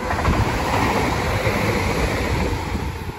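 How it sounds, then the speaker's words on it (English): A Chiltern Railways Class 165 diesel unit on the Oxford to London Marylebone service runs past at South Ruislip station, a loud steady rumble and rush of wheels with wind buffeting, no voices. "The 1003 Chiltern Railway service from Oxford to London Marylebone."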